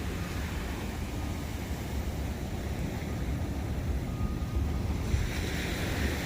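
Big ocean waves surge and wash at a La Palma beach near El Puerto, a continuous broad roar with steady wind buffeting the microphone.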